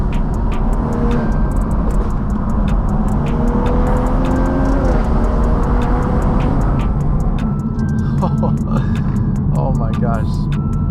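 A B58-engined car with an FBO exhaust drives along canyon roads, its steady engine drone and exhaust rumble filling the cabin, with a few ticking clicks and faint whistling tones near the end.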